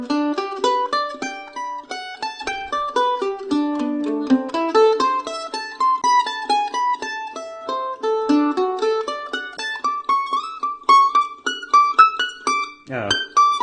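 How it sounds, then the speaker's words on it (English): A mandolin plays an arpeggio exercise alone, with crisp picked notes in flowing runs that climb and shift positions, ending in a quick strummed flourish. "let me just first play this little arpeggio exercise"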